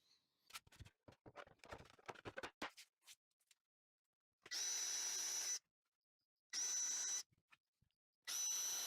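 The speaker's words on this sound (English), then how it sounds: "I am, though, going to pre-drill my nails." After some light clicking and tapping, a power drill pre-drills nail holes in wood for a rustic table, whirring in three short, steady bursts separated by pauses, close by.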